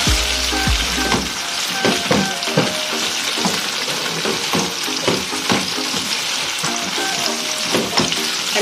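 Tofu fries steadily in a hot pan for a home-cooked salpicao, with a dense continuous sizzle and repeated scraping clicks as it is stirred and turned, close and fairly loud, with no talking.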